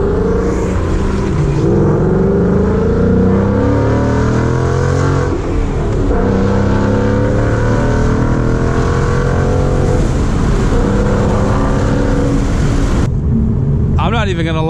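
A 2019 Ford Mustang GT with Corsa Extreme exhaust, rev matching and a weighted shift knob, revs hard and loud through gear changes, a continuous close engine roar with rising and falling pitch; a person exclaims and talks over it.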